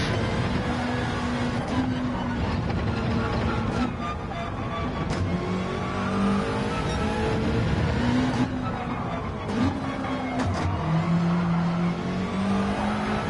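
A Subaru BRZ Group 3 race car in Gran Turismo 7 laps Deep Forest Raceway, its engine rising and falling through gear changes with brief tire squeals. The engine runs continuously and steadily, with faint talk underneath.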